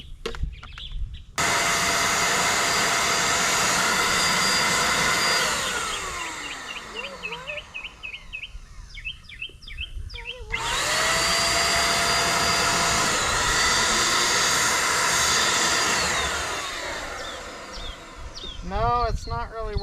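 A handheld paint sprayer runs with a loud, steady motor whine and hiss, stopping and restarting midway, with birds chirping in the background and a person talking in places.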